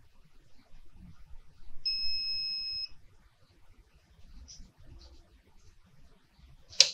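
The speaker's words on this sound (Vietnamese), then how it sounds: "chúng ta thấy cái âm thanh đó là nó báo cái nhiệt độ của chúng ta là ok rồi" A specialized CPU rework tool, the S BGN2, gives a single steady electronic beep lasting about a second to signal it has reached temperature. The tone is clear but moderate in a quiet workshop, with faint handling clicks around it.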